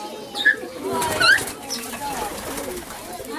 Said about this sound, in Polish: Są, są ptaszki.